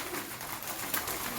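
Pigeons in a loft coo while crowding onto breeding grain at feeding time, a brief close burst of soft murmuring calls over a dense flock.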